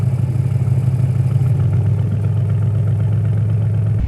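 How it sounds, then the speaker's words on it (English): An Audi RS6 Avant engine idling in RS2 mode, a steady low rumble held close and alone, easing down slightly near the end. "you'll actually notice right away that the idle of the car increases"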